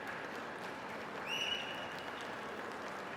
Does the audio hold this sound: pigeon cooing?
no